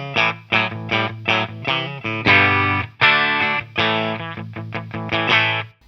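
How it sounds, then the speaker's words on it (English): Clean electric guitar through a Kaufman Cozy pedal into a Fender Deluxe Reverb amp, playing a rhythmic sequence of bright chords and notes with short decays, close and alone. "This is the Kaufman Cozy going through my Fender Deluxe Reverb just there."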